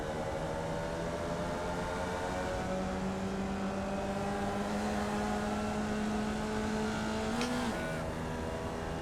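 A race car passes on the left with a steady, droning engine tone that holds almost constant, rises briefly in pitch near the end, then drops again, heard loud and close over continuous onboard engine noise.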